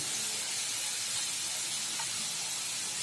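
Chopped garlic fries in hot oil in a pan, a steady close sizzle and hiss lasting the whole time with no talk.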